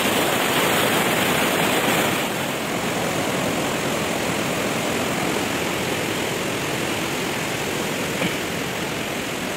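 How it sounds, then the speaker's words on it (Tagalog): Steady, loud rush of water at Aliwagwag Falls fills the whole clip, a constant broadband roar with no voices. "Hindi malakas na yung agos ng tubig."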